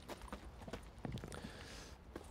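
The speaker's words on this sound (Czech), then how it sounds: "Tady mám koně." A horse's hooves clip-clop at a walking pace in the video game Witcher 3, a steady, faint rhythm of soft hoof strikes with no voices over them.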